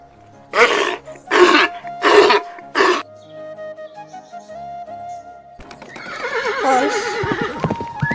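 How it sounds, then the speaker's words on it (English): A horse gives four sharp, snorting bursts in quick succession, then after a pause lets out a long, wavering whinny while hooves clop nearby. "horse,"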